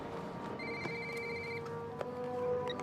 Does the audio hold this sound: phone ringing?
yes